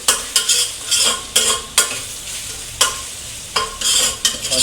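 Garlic paste fries and is stirred in a pan for a bachelor-style chicken curry, giving a steady close sizzle broken by repeated scraping strokes of the spoon at an irregular rhythm.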